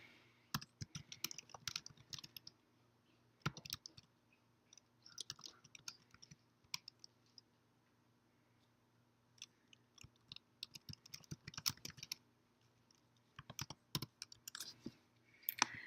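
Keys clatter on a computer keyboard as text is typed, coming in irregular bursts of rapid clicks with short pauses between them, close and moderately quiet, with no talking.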